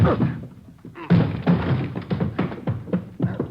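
Heavy thumps and thuds as officers strike a door in an old police radio drama, a few solid blows mixed with overlapping voices and movement nearby.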